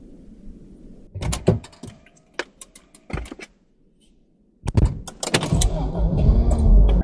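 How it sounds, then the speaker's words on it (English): A car sounds close up from inside, with scattered clunks, clicks and thuds, then the engine starts and settles into a steady rumble. "the car that I'm driving right now"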